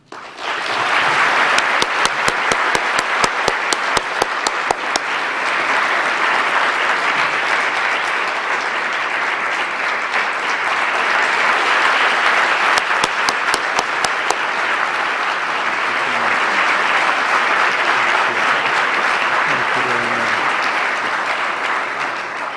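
An audience at Brown University in Providence applauds to welcome His Highness the Aga Khan before his Ogden Lecture, a large crowd clapping steadily and loudly for over twenty seconds.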